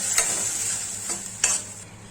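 Tomato puree frying in oil for matar paneer, a bright steady sizzle with three quick scraping stirs of a spatula, close and alone.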